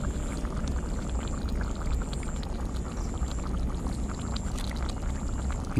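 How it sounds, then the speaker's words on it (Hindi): Village-style chicken curry gravy coming to the boil in a pot gives a steady, close bubbling and sputtering, with continuous dense gurgles and faint hissing throughout. "देखिए बॉयल आना चालू हो गया"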